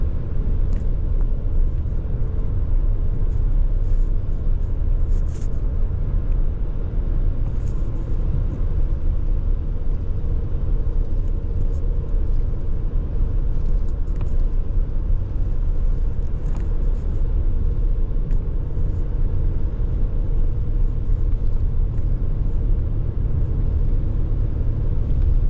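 A car drives north on Old Dalton Road toward Johns Mountain near Rome, Georgia, its engine and tires making a steady, loud rumble from inside the cabin for the whole stretch, with faint occasional clicks.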